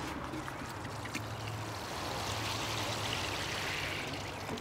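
Water drains steadily from a freshly watered potted Australian native plant indoors, a continuous close trickling wash with no pauses.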